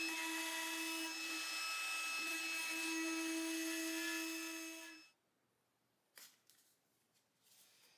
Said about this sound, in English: Route all the outside edges, make sure it's real smooth all around